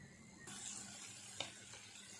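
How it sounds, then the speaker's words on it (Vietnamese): Minced lemongrass, shallots and garlic drop into hot pork fat and start frying, a steady broadband sizzle rising abruptly and holding close and moderately loud, with a brief clatter partway through. "Mình sẽ cho sả băm với lại hành tím bào, tỏi bào vào, mình phi thơm ha các bạn."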